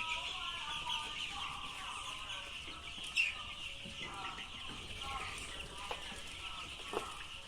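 Free-range layer chickens on a poultry farm clucking steadily through the whole stretch, a flock of soft overlapping calls at moderate distance with a few louder squawks, faint handling noise underneath.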